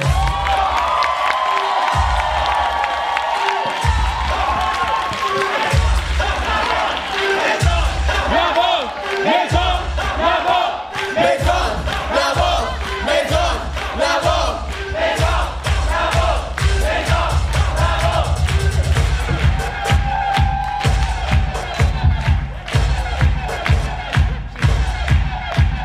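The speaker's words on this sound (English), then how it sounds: "A round of applause." A crowd at a kiki ballroom event cheers, whoops and shouts continuously over a steady thumping beat, loud and sustained for the whole stretch, with voices mixed into the roar.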